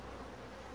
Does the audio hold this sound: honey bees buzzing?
yes